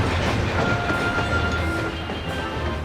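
A train rolls past in a Final Fantasy XIV cutscene, a loud continuous rumbling rush of wheels and carriages with faint rhythmic clatter, steady throughout and without speech.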